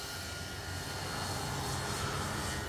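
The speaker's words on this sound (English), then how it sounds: "Man, what a great flying plane." A Dynam P-61 Black Widow radio-controlled plane drones overhead, its steady engine whine holding evenly throughout, moderately distant and alone.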